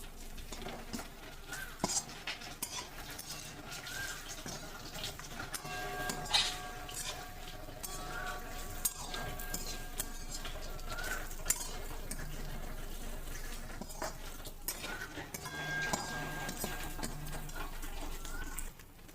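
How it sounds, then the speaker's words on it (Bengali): Chicken with spices being stirred in a pan for a dry chicken dish, with a steady soft scrape and clink of a spoon against the pan over a low sizzle, continuous and close. "এবার এটাকে মিক্স করে নিই, ভালো করে নাড়িয়ে নিই"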